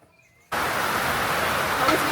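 Steady rain falling in La Fortuna, Costa Rica, a dense even hiss that starts abruptly after a short near-silence and holds constant and loud to the end.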